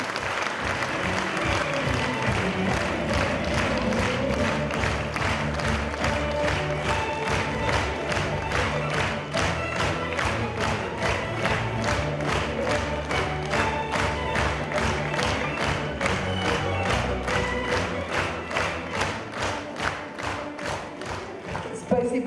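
Sustained ovation from an audience at a Kherson city anniversary celebration, with dense applause and scattered cheers. The clapping stays loud and steady throughout, with no speech over it.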